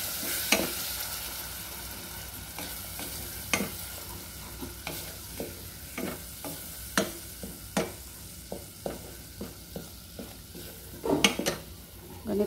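Green curry paste frying in hot coconut oil, a soft steady sizzle under repeated sharp clinks and scrapes of a utensil stirring against the pan, with no voices.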